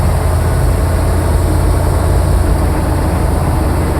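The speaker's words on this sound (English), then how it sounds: "once we get to around 30 miles per hour, we'll shift into third gear" An AM General Humvee engine drones loudly and steadily as it accelerates through its transmission gears, a constant low rumble with no clear break for the shift.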